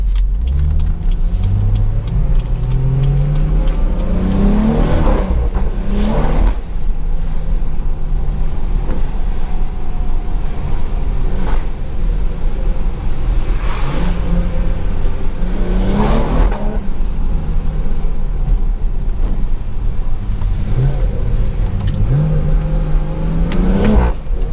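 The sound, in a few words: BMW 340i car accelerating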